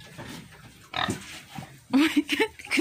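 A male boar on a pig farm grunts in short bursts, a few close, rough snorts and oinks spaced across a couple of seconds with quiet gaps between.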